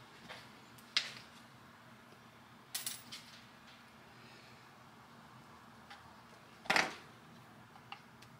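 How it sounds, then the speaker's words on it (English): Wire terminals being crimped and tightened during wiring of a wiper motor and power windows on an F100 race truck: a few sharp, close metallic clicks and clacks, spaced out over quiet shop background. "Then we're gonna crimp them on. Keep that nice and flat, tighten it down."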